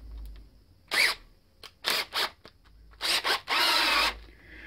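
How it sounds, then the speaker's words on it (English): A power drill whirs in short bursts, spinning a shotgun cleaning rod with scraping friction; several brief runs separated by near-silence, close by. "my way of doing this is putting the rod on the drill"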